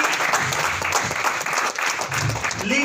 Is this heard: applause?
yes